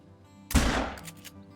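A single loud gunshot from a hunting rifle in the game Call of the Wild on the Te Awaroa map, with a sharp crack and a rolling echo tail fading over about a second.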